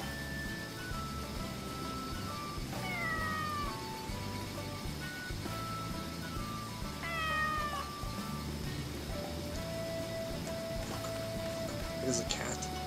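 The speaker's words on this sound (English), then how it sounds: "It is a cat." A calico kitten in the video game Sakuna: Of Rice and Ruin gives a few short, rising meows over a steady game music and ambience bed.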